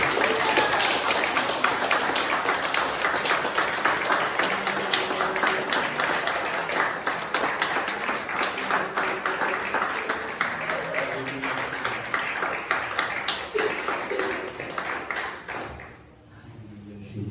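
French-speaking church congregation applauding, continuous crisp clapping that carries steadily and then tapers off, cutting to quiet at the very end.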